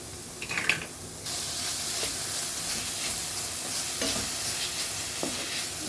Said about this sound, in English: Now let's fry our onion. When it's turned to brown, let's add our garlic.